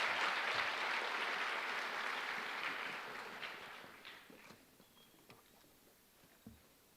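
An audience applauds at a high school honors night, a dense round of clapping that starts strong and gradually thins out to scattered claps and faint room noise.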